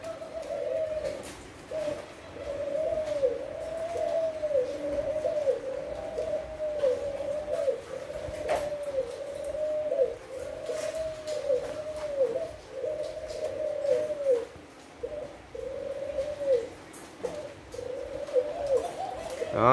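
Caged Thai doves coo in a steady, repeating rhythm of soft rolling calls, close and clear, continuing for the whole stretch over a faint background hiss.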